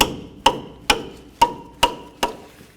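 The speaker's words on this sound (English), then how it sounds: "and then of course a nice rubber mallet because I don't want to damage my tool" A rubber mallet taps a wrench on a strut nut of a 2004-08 Ford F-150: five sharp, evenly spaced knocks, each with a brief metallic ring, loud and close with no talk.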